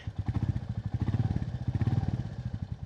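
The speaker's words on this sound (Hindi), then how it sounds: "इस टाइप का ये एग्जॉस्ट मिल जाता है जिसका कि साउंड काफ़ी अच्छा है" A modified Royal Enfield Classic 350 motorcycle idles with a steady, loping exhaust burble, fairly close and continuous, with rhythmic low pulses throughout.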